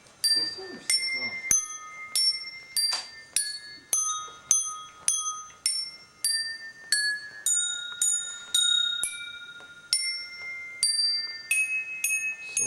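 Handbells ring one after another in a quick melodic sequence at a Christmas family gathering, bright clear strikes with lingering rings, about two per second, loud and close.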